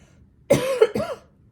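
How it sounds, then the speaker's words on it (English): A single close, harsh cough breaks out in two quick bursts, the second one rougher, with silence before and after. "Sorry again, got this cough."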